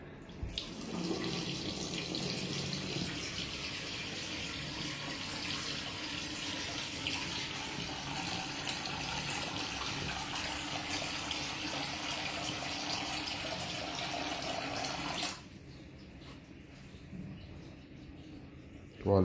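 Water runs from a washbasin tap in a newly finished modern bathroom, a steady close hiss and splash for about fifteen seconds before the flow stops, with a faint voice in the background.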